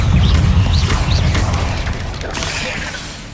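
A Confringo explosive spell goes off in the Hogwarts Legacy video game, a loud, deep booming rumble with crashing impact that slowly fades over a few seconds.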